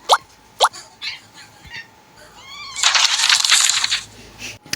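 A cat in a video game meows a few times with short bright calls, followed by a louder, noisier burst of game sound effects near the end.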